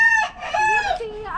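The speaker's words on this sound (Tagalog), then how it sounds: "puro manok na lang dito" A rooster crowing on a rooftop among chickens, one loud close crow with strong harmonic tone that breaks into clucking sounds at the end.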